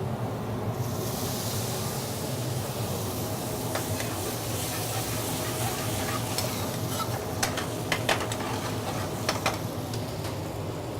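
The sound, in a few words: pan deglazed with curry base of onions, garlic, ginger, tomatoes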